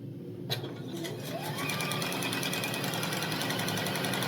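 A sewing machine stitches quilt pieces, joining spatula appliqués to a green tablecloth block, with a close, continuous and steady mechanical drone and a light rhythmic patter throughout.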